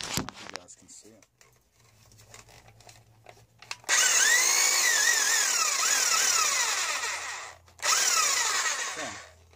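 A Black & Decker power tool is plugged in and switched on, starting with a loud rising whir that runs steadily, dips briefly and revs again. Quiet handling noises and soft talk come before it.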